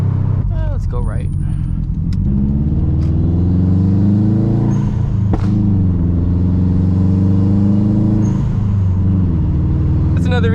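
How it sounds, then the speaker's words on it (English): Stage 2+ Subaru WRX STI exhaust accelerating hard, a loud, close, steady engine roar that rises in pitch through the gears, with a couple of sharp pops along the way. "this car has never really been like that loud"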